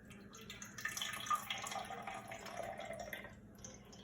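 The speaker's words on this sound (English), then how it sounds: "And I'm going to go ahead and pour that into your flask." Fifty milliliters of algae growth media is poured into a flask, giving a faint, close trickle of liquid with soft splashing and gurgling over a few seconds, with no speech.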